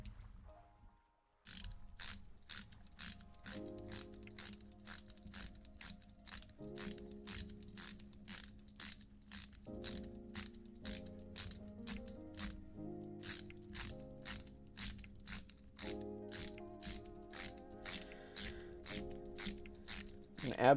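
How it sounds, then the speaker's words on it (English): A screw on a balisong knife is tightened with a steady run of sharp ratcheting clicks, close and quiet and evenly spaced for about twenty seconds, with no talk. "How long have I been tightening the screw for?"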